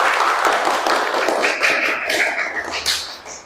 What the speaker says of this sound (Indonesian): Tepuk tangan buat Empi.